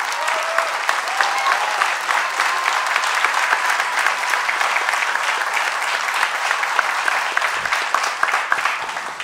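Crowd applause for a double bass player at an instrumental music concert, a loud, dense and sustained ovation from many hands that holds steady throughout, with no talking over it.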